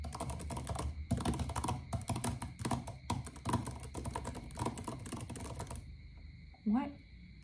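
Fingers type on a computer keyboard in quick irregular clusters of soft clicks and taps, close and quiet, stopping near the end as a voice briefly speaks.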